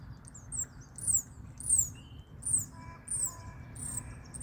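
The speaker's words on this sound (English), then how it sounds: "That bird right there is they're tweeting." A small bird tweets outdoors, giving a series of short, high chirps spaced about half a second apart over a low rumble of background noise, fairly distant and faint.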